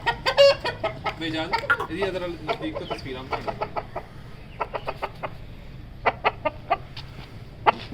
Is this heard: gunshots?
no